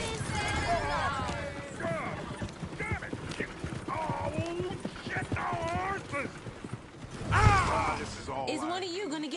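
Horse hooves clip-clop steadily through Red Dead Redemption 2 game audio, with a horse neighing loudly near the end while voices talk over much of the scene.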